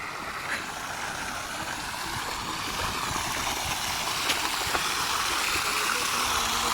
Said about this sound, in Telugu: నీళ్ళు కారుతున్నాయి